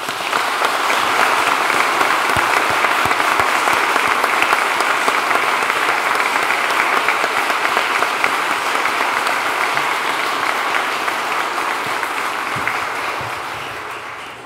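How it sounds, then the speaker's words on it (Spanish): Sustained, dense applause fills a hall at a lawyers' swearing-in ceremony before the Supreme Court, loud and even for about fourteen seconds before gradually thinning and fading at the end. "Aplaudamos este logro."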